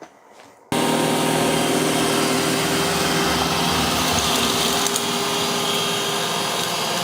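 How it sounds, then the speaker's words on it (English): A Roomba robot vacuum starts abruptly and then runs steadily, a loud continuous whirring motor and brush drone cleaning the floor nearby. "Next, we'll have the Roomba."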